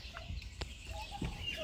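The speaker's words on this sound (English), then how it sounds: "the rooster is right here." Chickens, including a rooster and gold lace Wyandotte mix birds, cluck in short scattered bursts, soft and fairly close over quiet background noise.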